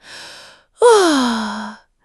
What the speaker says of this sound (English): Maybe a big yawn.